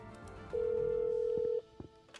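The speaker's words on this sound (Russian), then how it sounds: "Давай еще раз позвоним." In the Escape Academy video game, a telephone line gives one loud, steady electronic tone lasting about a second, then cuts off, followed by a few faint clicks.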